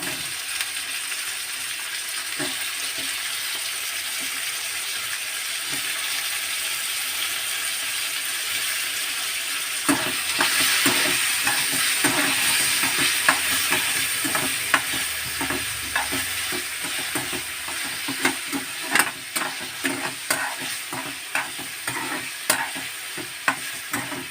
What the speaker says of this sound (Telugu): ఇదిగోండి టమాటాని ఇలా ఉడికిచ్చేస్తున్నామండి